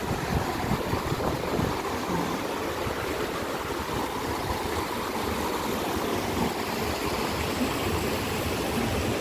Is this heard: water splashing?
yes